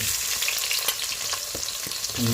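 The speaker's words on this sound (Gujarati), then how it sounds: "એની અંદર આપણે નાખીશું તેજ પત્તા અને લવિંગ મરિયા અને તજનો આખો મસાલો, જીરું અને મસાલા બધા મિક્સ થઈ ગયા તેલની અંદર" Bay leaf, cloves, peppercorns, cinnamon and cumin sizzle steadily in hot oil as the tempering for veg pulao, with a few sharp clicks of a stirring spoon against the pan, heard close with no talk.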